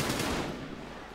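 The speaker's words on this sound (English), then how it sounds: "Shots fired. Shots fired." Gunfire rings out during an FBI SWAT raid on a meth lab in GTA V with the LSPDFR police mod. A quick rattling burst of shots is heard at a distance, then trails off.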